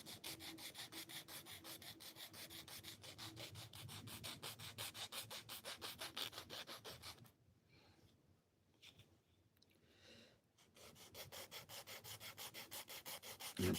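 A small wooden mallet held in hand is rubbed with sandpaper in quick, steady back-and-forth strokes, pausing briefly midway before the close, gritty scraping resumes.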